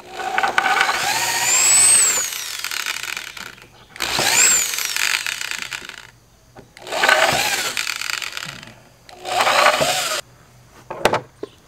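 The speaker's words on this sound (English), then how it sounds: "I got the holes drilled in" A power drill bores holes with a 7/32 bit through a 1987 Powell Peralta Caballero skateboard deck, running in four loud whining bursts of about two seconds each, separated by short pauses.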